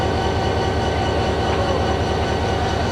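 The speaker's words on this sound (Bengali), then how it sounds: "আরেকটা ট্রেন ঢুকতেছে এখন এই মুহূর্তে আমরা দেখতেছি" Train moving at a station, a continuous loud rolling rumble with rhythmic rail clatter and no voices.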